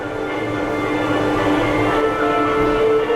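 The Alton Towers monorail runs along its track, a loud steady rumble with a droning mechanical hum and a faint rising whine.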